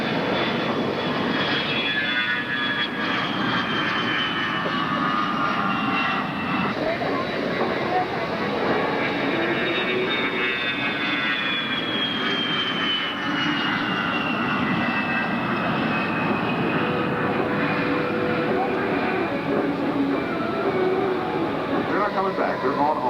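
Thunderbolt warbirds flying past at the 1995 London International Airshow, a sustained distant piston-engine drone that swells and shifts in pitch, heard under a public-address announcer's voice throughout.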